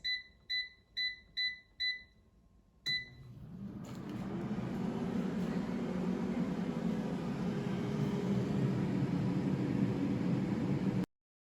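Five short electronic beeps from an air fryer set to 400 degrees Fahrenheit, one more beep, then a steady fan whoosh and heating hum as it runs loud and constant for about eight seconds before stopping abruptly.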